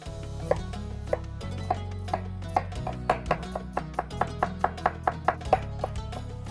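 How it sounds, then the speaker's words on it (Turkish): Steady knife chops on a cutting board, about twenty sharp regular strikes as an onion is sliced, with a low hum in the background. "bir adet kuru soğanı yemeklik doğrayacağım"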